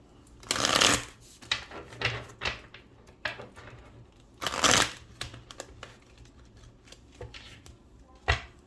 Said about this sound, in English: Let's go ahead and give you a angel therapy card.